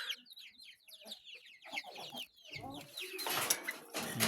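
Small chicks gathered together in one spot, giving a busy run of high peeping and chirping calls that thicken into a dense, loud chorus toward the end, close by with no talk.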